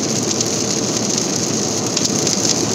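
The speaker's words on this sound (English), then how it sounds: "It's pouring," Heavy rain pours steadily and loudly, a dense continuous wash of drops drumming on a surface with no break and no voices.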